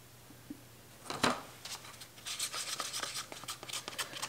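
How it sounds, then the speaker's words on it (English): A spatula scrapes soap batter from a big pitcher, giving rough rubbing and rasping strokes that repeat in a rapid, uneven rhythm close by, with one louder scrape early and no talking. "then I will scrape this big pitcher and come back to do the colors"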